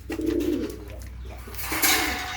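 Pigeon cooing in a low, soft, repeated burble, close by, with rustling and other noise around it and a brighter noisy burst near the end.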